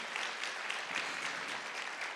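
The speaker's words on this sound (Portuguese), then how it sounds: "vamos aplaudir ao Senhor." A church congregation claps together during a service, a steady, fairly faint wash of applause heard from a distance.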